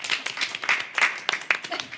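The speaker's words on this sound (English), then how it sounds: "Oh, we're clapping." Brief applause from a small group at a community college district board of trustees meeting, light scattered clapping mixed with people talking over it.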